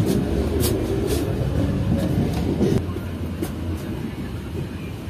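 Inside a cabin of the moving Baba Fareed Express overnight train from Rahim Yar Khan to Karachi, a loud, steady rumble with rhythmic clicks of wheels over rail joints, easing slightly partway through.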